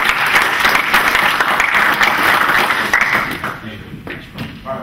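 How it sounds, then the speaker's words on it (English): Audience applause at a community startup pitch gathering, a loud, dense burst of clapping that thins and fades out after about three and a half seconds, leaving scattered claps and room noise. "give another round of applause."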